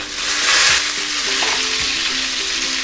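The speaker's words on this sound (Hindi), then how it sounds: "तेल गरम हो चुका है, अब मैं डाल देती हूँ इसके अंदर लहसुन" Garlic fries in hot oil for chicken momos, giving a loud, close, continuous sizzle that swells briefly early on, with occasional stirring knocks underneath. No speech.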